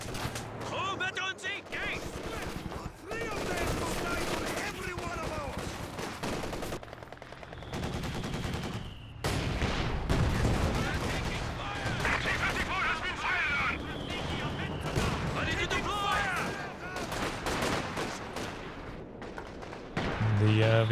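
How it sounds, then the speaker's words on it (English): Machine guns rattle in a Company of Heroes 2 battle. Dense, ongoing bursts of automatic fire mix with heavier battle noise through the whole stretch, and a commentator talks over them. "Two machine guns and they are starting to shut down the infantry."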